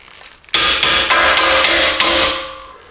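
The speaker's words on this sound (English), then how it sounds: "you can do that by just tapping on it on the ends with the hammer." A hammer striking the ends of Jeep leaf springs during an add-a-leaf lift install: six sharp metallic taps at a moderate pace, loud and ringing, with no talk.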